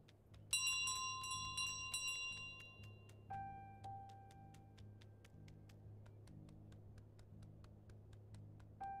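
A small bell carried by the goose in Untitled Goose Game rings in a quick cluster of bright dings, then settles into sparse, faint tinkles over a steady low hum, with no talking.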